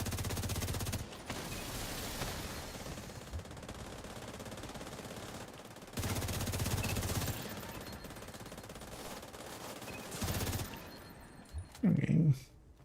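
Bursts of rapid gunfire from a shooter video game in which players loot and shoot, heard in dense, loud stretches with quieter gaps between them, and a final short burst near the end.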